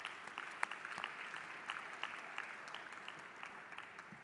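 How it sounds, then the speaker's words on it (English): Applause from delegates at a WTO ministerial opening ceremony in the UAE, a faint, distant, steady patter of many hands clapping with scattered sharper claps, no voices over it. "So I want us to give them a round of applause."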